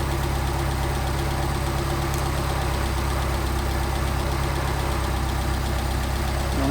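Engine fitted with a freshly rebuilt Solex carburetor runs steadily at a constant idle, a close, loud, even rumble with no talk.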